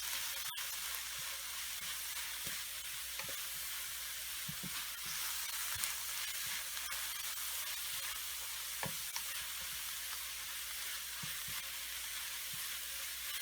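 Onions and garlic paste frying in a pan give off a steady, even sizzle, broken now and then by soft scraping as they are stirred, and no one speaks.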